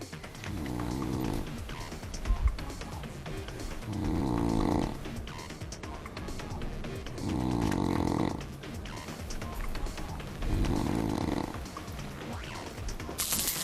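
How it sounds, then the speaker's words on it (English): A man asleep snores loudly overnight in a shared bedroom, with four long rasping inhalation snores coming at a steady rhythm, roughly every three seconds, and quieter breathing in between. "can you give him something to stop him snoring, please?"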